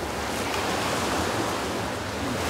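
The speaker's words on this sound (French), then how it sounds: "on voit bien là-bas les vagues qui cassent sur la barrière" Ocean waves breaking on a coral reef barrier off a Caribbean island in the Antilles, a continuous broad roaring surf wash, steady and fairly loud with some wind noise, no talk.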